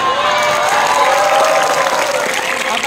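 A cinema audience at a group screening of an Indonesian film applauds in a dense, steady wave of clapping and crowd noise, loud and sustained for a few seconds.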